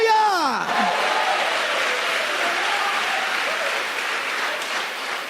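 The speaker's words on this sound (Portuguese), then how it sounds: "dê um aplauso a Ele e libere um grito de júbilo" A church congregation applauds and cheers in a continuous roar of clapping and voices, following a sung or shouted phrase at the start.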